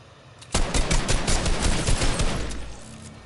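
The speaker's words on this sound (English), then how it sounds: "That minigun takes so fucking long to charge up." A minigun in Fortnite opens up after a brief quiet lead-in, pouring out a loud, continuous rapid-fire stream for nearly three seconds before easing off.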